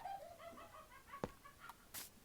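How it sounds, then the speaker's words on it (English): A Minecraft chicken clucks in a few quick, faint chirping notes as it is struck and killed in the video game, followed by a short hit sound and a brief puff, with no talking. "kill this chicken."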